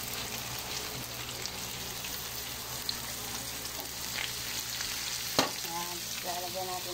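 Squeezed banana blossom hitting a hot pan with onion, shrimp paste and leftover pork chop, a steady close crackling sizzle throughout, with a sharp clatter near the end and faint utensil tones after.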